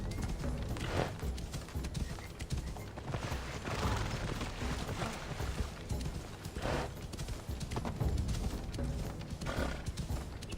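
Horse hooves clip-clopping steadily in Assassin's Creed Odyssey, a continuous galloping rhythm over busy game ambience and music throughout.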